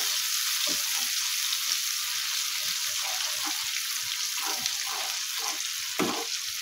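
Spicy potato slices frying in a pan, a steady bright sizzle of hot oil running throughout with faint soft stirring and scraping taps underneath, close and continuous with no talk.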